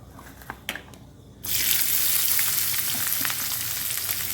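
A piece of chili, a bay leaf and curry leaves drop into hot oil. A few faint clicks come first, then a sudden loud, steady sizzle that carries on to the end.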